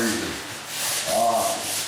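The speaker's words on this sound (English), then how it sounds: "As you're sanding your nail holes, don't neglect to hit the entire wall." A hand sanding block scrubs across a drywall surface while nail holes are smoothed, a steady close rasping rub that swells and eases with each stroke and runs alone without talk.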